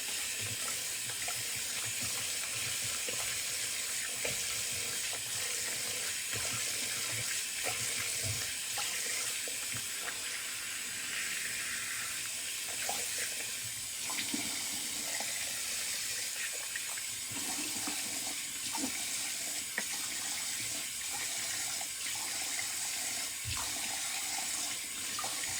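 Water runs steadily from a tap into a bathroom sink holding hairy shaving water, a continuous close splashing rush that lasts throughout with no talk.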